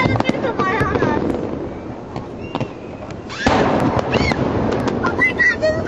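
Fireworks burst overhead above the St. Johns River in Florida, with dense crackling and booming close by, growing louder partway through, under excited voices.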